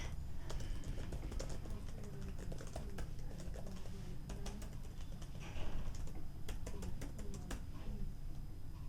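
A password typed on a computer keyboard, with quick, irregular key clicks close up and fairly quiet over a low background hum.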